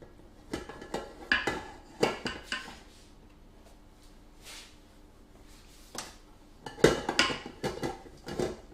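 Bowl and utensil clatter from mixing gluten-free chocolate cake batter by hand, a series of close, sharp knocks and scrapes coming in irregular bursts with quieter gaps between.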